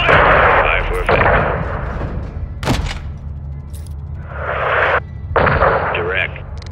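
Loud bursts of gunfire from the video game Call of Duty: Modern Warfare II, several heavy booming shots and rattling volleys close up over a rumbling battle backdrop, with a voice speaking briefly.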